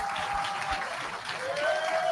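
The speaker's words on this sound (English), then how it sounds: "please join me in giving a round of applause" Audience applause for debate speakers at the close of an evening event, a continuous crowd clapping at moderate loudness, with a faint tonal hum running beneath the claps.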